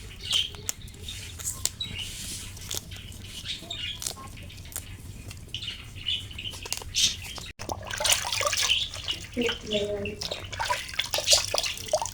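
White water lily petals being rinsed and swished by hand in a bowl of water, giving a steady close splashing and trickling that grows busier toward the end, with no talk.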